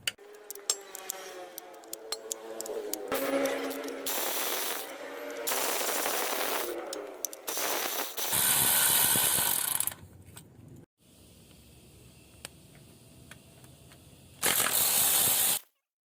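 Ratchet work on a 13mm bolt holding the engine support bracket at the rear of the oil pan on a Peugeot 307, heard as bursts of close metallic clicking and scraping with brief pauses and a louder final run.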